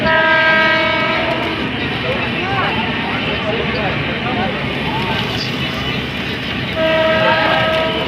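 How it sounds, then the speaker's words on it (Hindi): A passenger train pulling out of Fatuha Junction rumbles loudly and steadily along the rails, with a long horn blast at the start and another near the end. "फातिमा जंक्शन से ट्रेन डिपार्चर हो गई है"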